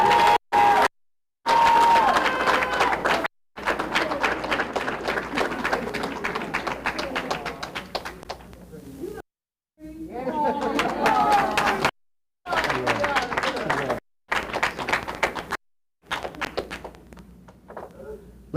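Applause and cheering from an audience at a Columbus Scioto graduation ceremony, bursts of clapping with crowd noise broken by abrupt silent gaps, footsteps and taps mixed in.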